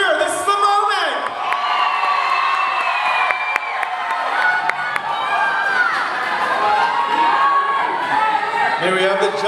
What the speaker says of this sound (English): I want to hear everyone's loudest cheer.